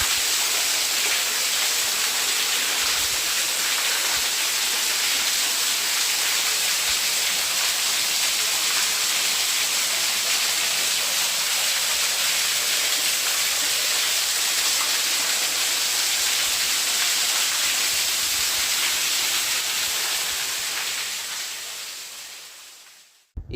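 Chandragutti Falls pours with a loud, steady, hissing roar that holds unbroken for over twenty seconds before cutting away abruptly, with no voices over it.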